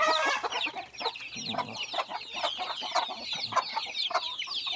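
A flock of chickens clucks close by in a coop, a hen with chicks inside, with overlapping soft clucks and thin high peeping chirps throughout.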